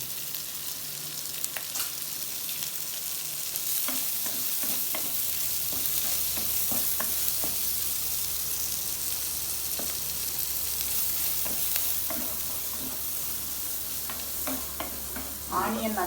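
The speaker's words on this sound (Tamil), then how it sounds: "ஆனியன் நல்லா ஃப்ரை ஆகிட்டு" Chopped onions frying in a clay pot (manchatti), a steady soft sizzle with occasional stirring scrapes and clicks, fairly close and continuous throughout.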